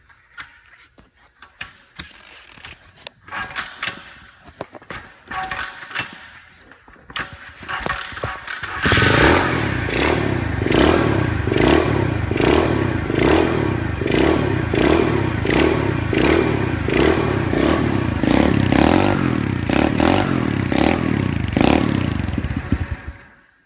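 A 2015 SSR SR110DX pit bike with its choke set is kicked over, catches, then idles and revs in a loud, rough rhythmic run right up close, with clattering mechanical noise before it fires.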